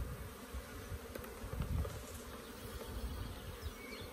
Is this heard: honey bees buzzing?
yes